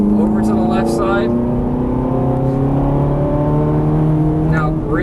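A Ferrari 430 engine on a race track, revving hard under full throttle, with a steady loud drone whose pitch slowly climbs and shifts, and a voice talking over it.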